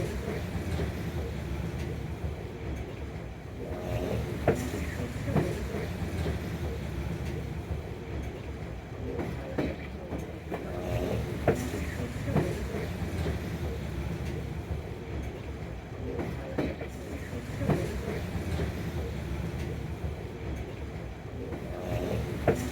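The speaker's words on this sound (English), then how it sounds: "let you just enjoy the sights of the Alaska Skagway train tour." White Pass Scenic Railway train rolling along the Skagway, Alaska route, a steady low rumble of wheels and cars with faint clanks, continuous and fairly close throughout with no talk.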